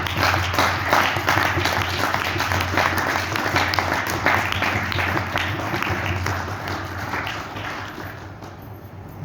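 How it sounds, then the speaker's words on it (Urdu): An audience at a Father's Day talk claps loudly and continuously, a thick sustained round of applause with some crowd noise that eases off toward the end. "تو کیا ایسے باپ کے لیے تالیاں نہیں ہونی چاہیے؟"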